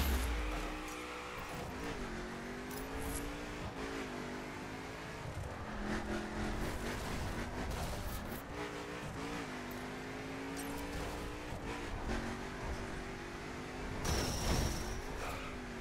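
A Mercedes-AMG GT R engine drones and revs in the racing video game The Crew. The sound is sustained, with shifting pitch as it accelerates, plus occasional tire noise, at a moderate, even level.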